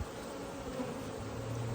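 Honey bees, including nurse bees on a brood frame, buzz in a steady low hum close by an open beehive, a continuous drone with no talk.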